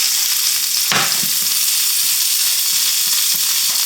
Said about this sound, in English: You want it to get crispy, your bacon to get crispy